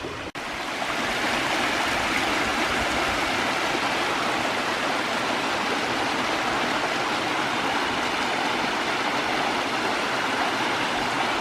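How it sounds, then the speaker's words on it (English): A waterfall at Beaman State Natural Area in Tennessee pours in a steady, full rush of water, close and unbroken throughout, with no voices. "Another waterfall."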